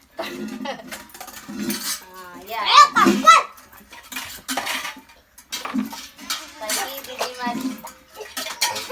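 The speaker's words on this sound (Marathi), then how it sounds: "ती भांडी निघतात दुधाची घासायला रोज रोज घासायला लागतात" Milk vessels and other dishes are scrubbed and scraped, with repeated close metallic clinks and rubbing of steel utensils, under intermittent talk from a woman and a child.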